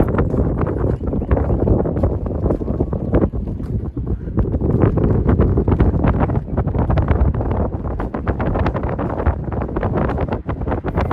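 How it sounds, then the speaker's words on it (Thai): Steady wind buffets the microphone with a constant rough roar and low rumble on the Mekong River, broken by gusty thumps, with no voices throughout. "เสียงลมเสียงพัดเย็นสบายแห้งๆพี่น้อง"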